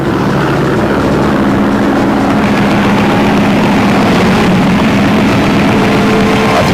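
Engine of a Soviet Polikarpov I-15 fighter aircraft from the Eastern Front of 1941, a loud, steady propeller drone with rough, throbbing texture that holds unbroken for about seven seconds with no voices.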